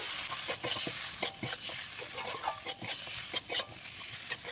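Spice paste being stirred into fried ginger and chili paste in a pan while cooking Bengali pumpkin chokka, giving a soft steady sizzle with repeated scraping strokes of the spoon, close and fairly quiet, with no talking.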